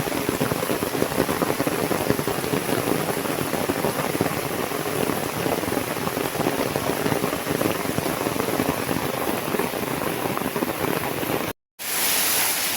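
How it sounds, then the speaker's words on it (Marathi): Steady, continuous rain pours down in a dense, even hiss of drops hitting surfaces, close and unbroken except for a brief gap of silence near the end. "तर पाऊस काय थांबायचं नावच नाही घेत आहे, कंटिन्यू चालू आहे."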